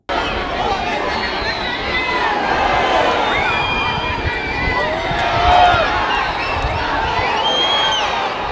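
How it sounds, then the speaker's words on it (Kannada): Roadside fans cheer and shout in a dense, sustained roar as the Prime Minister's vehicle passes, voices overlapping loudly and close with rising calls and no single clear chant. "ಪ್ರಧಾನಿಯ ವಾಹನ ಸಂಚರಿಸ್ತಾ ಇದ್ದಂತೆ ಅಭಿಮಾನಿಗಳು ಮೋದಿ ಮೋದಿ ಅಂತ ಜೈಕಾರ ಕೂಗಿ ಸಂಭ್ರಮ ವ್ಯಕ್ತಪಡಿಸಿದರು"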